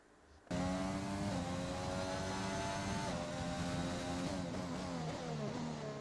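Racing car engines in the video game F1 2020 at the Japanese Grand Prix: a loud, continuous high-revving whine with rising pitch sweeps and brief dips at gear shifts, heard alone without talk.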